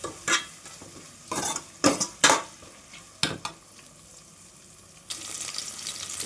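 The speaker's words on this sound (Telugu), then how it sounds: "పచ్చగా దంచుకున్న వెల్లుల్లి, అలాగే ముందుగా కట్ చేసి పెట్టుకున్న ఆనియన్స్, కొద్దిగా కరివేపాకు ఇవన్నీ వేసుకొని బాగా" Crushed garlic, chopped onions and curry leaves sizzle in a pan for sambar, broken by several sharp scraping stirs from a spoon, with a brief louder burst of frying near the end.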